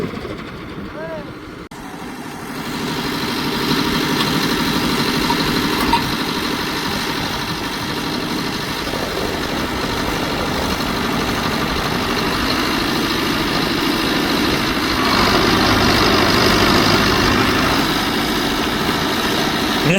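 A tractor engine rumbles steadily during paddy season while pulling with a chain hooked low on its bumper, a heavy drone that swells after a few seconds and holds, with people talking nearby.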